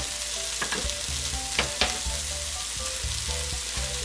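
Meat frying in a skillet with seasoning being stirred in: steady close sizzle and crackle, with irregular scraping strokes and a few sharper clinks of a utensil against the pan, no talk.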